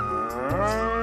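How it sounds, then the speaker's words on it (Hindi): Outside a house, a cow gives a short, loud moo that bends upward in pitch, close and clear with no talking. "घर के बाहर से किसी गाय की आवाज आ रही है।"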